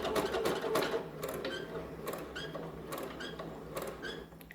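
A sewing machine stitches shirring elastic into fabric, a steady rapid mechanical whirr with rhythmic needle clatter and light squeaks, close and continuous, with no talking.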